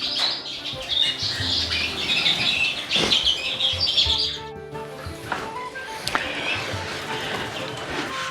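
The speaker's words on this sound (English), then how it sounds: "As you can see behind me, this is where all my young birds are. Young birds on the flight." Many young redpolls call from a bird room aviary flight, a busy wash of high squawks and chirps running throughout, with occasional thumps and wing movement.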